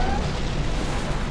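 Bomber payload blast in Command & Conquer Generals Zero Hour, a dense, continuous rumbling explosion filling the whole moment with broadband roar and no clear single onset, fairly loud throughout.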